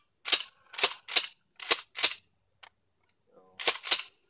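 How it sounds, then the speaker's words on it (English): A Mossberg 500 12-gauge pump shotgun fitted with a bullpup stock fires a quick string of sharp, loud blasts, five in steady rhythm, then a pause and two more close together. "Sounds and kicks like a 12 gauge."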